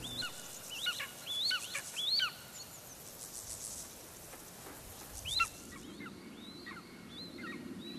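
Young eagles give repeated shrill, piping calls, several overlapping cries at a moderate distance over a steady outdoor hiss, with the calling continuing throughout.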